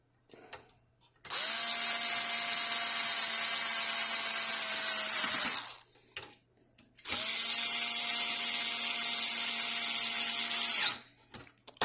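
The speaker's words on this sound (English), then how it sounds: "screwdriver to tighten them up" A power screwdriver tightening hard drive screws inside a Hikvision DVR, two sustained high whirring runs of about four seconds each, close and loud, separated by a short pause with faint clicks.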